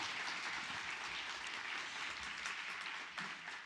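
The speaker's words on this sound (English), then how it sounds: "One more round of applause for them." A conference audience gives a round of applause at a closing plenary session, dense continuous clapping from a large crowd, fairly even and sustained, with no talking over it.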